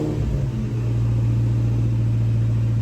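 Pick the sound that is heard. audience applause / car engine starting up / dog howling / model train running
car engine starting up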